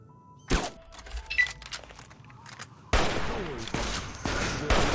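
Gunshots in a first-person video game, a sharp blast near the start and scattered shots, then a dense loud stretch of rapid overlapping gunfire in the second half, with no talk.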